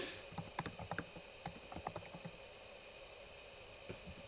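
Rapid, irregular clacky keystrokes from a noisy computer keyboard during a card game tournament livestream, moderately close with short pauses between bursts.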